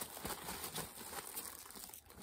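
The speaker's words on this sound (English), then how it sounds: "And let's unwrap this." A wrapped Zara or Michael Kors handbag being unwrapped, with soft, continuous crinkling and rustling of wrapping material close by, quiet and without talk.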